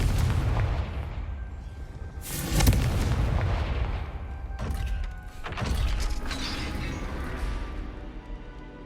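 Confringo blasting spell explosions in the Hogwarts Legacy video game: a heavy boom near 2.6 s, then further loud blasts around 4.7 and 5.5 s over a dense rumbling game soundscape, with no talk.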